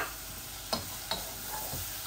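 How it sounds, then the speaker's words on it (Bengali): Ginger and garlic go into half-cooked onions frying in a pan, with a steady sizzle broken by a few sharp stirring scrapes close up. "এখন আমি আদা রসুনটা দিয়ে দিব।"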